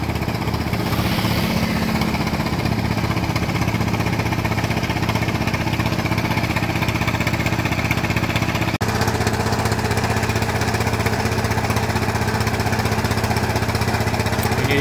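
A drilling rig bores into the ground on a water well job, its engine droning loud and continuous with a rough, chattering mechanical rattle running throughout.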